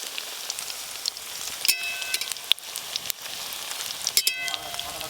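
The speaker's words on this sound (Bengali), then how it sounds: "আজকে তো কোপ্তাগুলো আমি সাদা তেলে ভাজছি" Pea koftas frying in vegetable oil give a faint, steady crackling sizzle with scattered pops and a few brief clinks, no voices over it.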